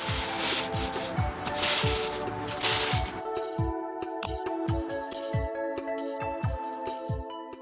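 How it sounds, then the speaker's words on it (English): A push broom sweeps sand into the fringe fibers of an artificial turf putting green, giving repeated close scratchy rubbing strokes in a loose rhythm, heavier at first and then sparser and quieter. "use your push broom and brush the sand into the fibers of the fringe until it disappears from the surface"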